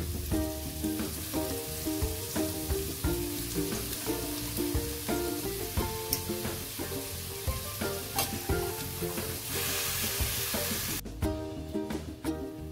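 Taro leaves with spices frying and being stirred in a pan for kochu saag with chickpeas: a steady close sizzle with repeated scraping and clatter of the spoon, continuous throughout and no talking.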